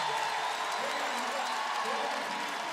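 Loud, steady crowd roar from a student section at a Utah vs Gonzaga NCAA women's college basketball game, with cheering and some applause filling the arena throughout.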